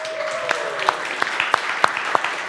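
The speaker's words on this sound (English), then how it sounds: "let's invite the cake in with a big applause" Audience applause at a science lecture contest event in Estonia as a cake is brought in, a continuous clapping crowd with loud individual claps standing out close by, and a high tone sliding down early on.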